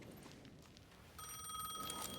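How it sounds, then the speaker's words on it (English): A payphone rings inside the Alan Wake 2 video game, its steady electronic bell tone starting partway through and holding on with a faint hum of ambience underneath. "The payphone was ringing again."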